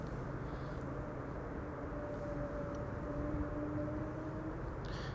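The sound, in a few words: KLM Airbus A330-200 airliner arriving at Amsterdam Schiphol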